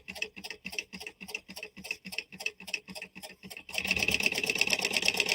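A sewing machine basting fabric together, running in quick even bursts of rapid stitching, then settling into one continuous whirring run, close and clear.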